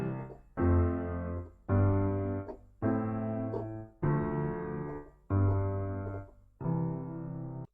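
Piano chord progression played with every chord in root position: six sustained full chords struck one after another at a steady pace, each ringing about a second before the next, heard alone and clearly.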